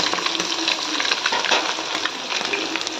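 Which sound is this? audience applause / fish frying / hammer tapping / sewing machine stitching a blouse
fish frying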